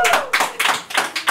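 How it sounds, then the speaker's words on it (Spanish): A TV studio audience greets a guest with close, loud clapping in distinct rhythmic bursts, brief and punchy. "Un aplauso."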